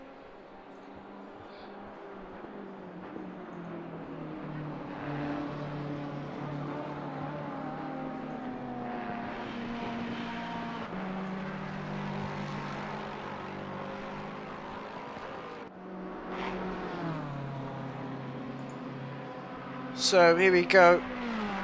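GT3 race car engines from the Assetto Corsa Competizione racing game drone and whine as the revs rise and fall, with gear changes, under steady commentary by a voice.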